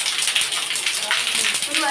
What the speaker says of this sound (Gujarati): વરસાદ વધારે ચાલુ થઈ ગયો છે અમારે